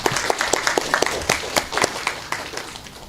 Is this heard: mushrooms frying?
no